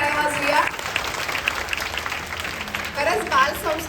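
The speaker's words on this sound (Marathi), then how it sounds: "एकदा जोरदार टाळ्या वाजूया" An audience at a devotional gathering breaks into applause, clapping steadily throughout with voices mixed in.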